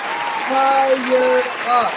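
A live crowd cheers and applauds throughout, a steady roar of clapping and voices with someone speaking over it.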